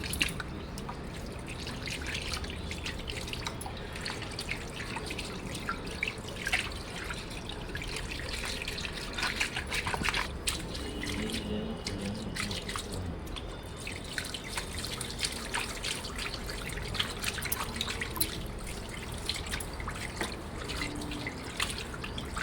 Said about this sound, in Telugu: చేపలను శుభ్రంగా కడగడం అంటే చాలా టైం పడుతుంది